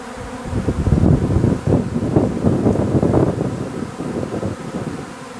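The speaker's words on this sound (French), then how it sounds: "J'ai vu de quelle ruche est sorti l'essaim." A honeybee swarm pouring out of a hive on a spring day makes a dense, loud buzzing drone of countless bees, continuous and close, mixed with wind noise against the microphone.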